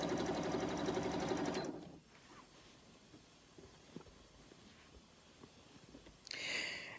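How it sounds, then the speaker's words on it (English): A sewing machine runs along the edge of a pillowcase for under two seconds, steady and close, then stops, leaving quiet handling noises before the motor briefly starts again at the end. "we're going to sew that entire edge."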